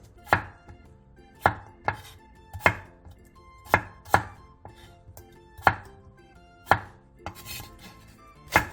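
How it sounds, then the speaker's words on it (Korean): A knife chops through an onion and potatoes cut into large chunks on a board, about nine sharp, evenly spaced strikes with no talking. "양파 1개와 감자 2개를 먹기 좋은 크기로 큼직하게 잘라주세요."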